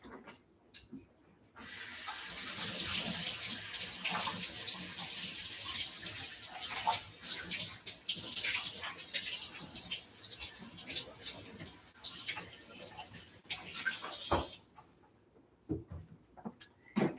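Tap water runs in a sink to rinse a NutriBullet blender cup, a steady splashing rush for about thirteen seconds with small clinks, starting and stopping abruptly, quiet room around it.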